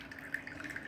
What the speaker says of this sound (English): When I open the opener, so the water was fall on the glass